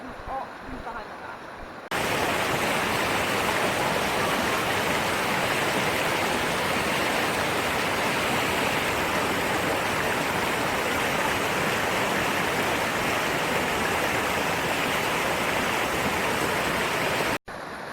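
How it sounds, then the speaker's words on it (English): A steady, loud rush of falling water close by, beginning abruptly after a quieter opening and continuing without pause. "found the first little waterfall"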